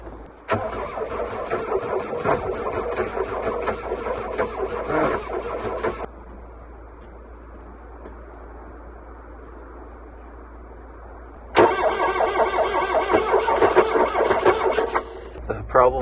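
A Volkswagen Rabbit engine cranks and starts, runs loudly for several seconds, drops to a quieter stretch, then surges loud again as it is driven.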